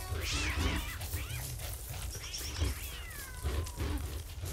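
Cats in the survival game Don't Starve Together meowing and yowling repeatedly, several rising and falling cries layered close over a low rumbling game background.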